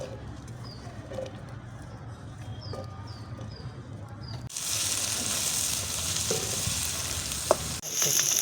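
Chopped onion tipped into two spoonfuls of hot oil for a tomato chutney: a soft background sizzle swells into a loud, steady crackling hiss about halfway through and keeps going to the end.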